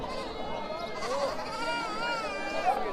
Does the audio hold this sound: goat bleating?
yes